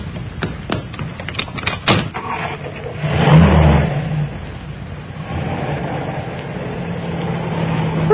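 A car pulls away in a radio drama effect: door and handling sounds, then an engine starts and revs up near, the motor droning steadily on as the vehicle drives off.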